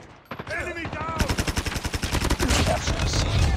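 Call of Duty Mobile gunfire rattles in a rapid automatic burst of closely spaced loud shots. Someone speaks briefly at the start.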